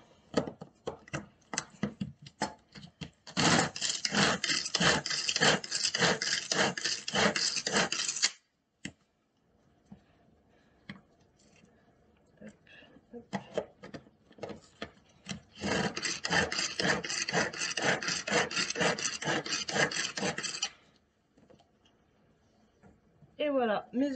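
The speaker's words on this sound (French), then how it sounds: "je vais commencer par hacher un oignon dans le Turbo Cup" An onion is chopped in a Tupperware Turbo Cup pull-cord chopper. Two long bursts of rapid, close, rasping whirring come from repeated pulls, with scattered short strokes before and between them.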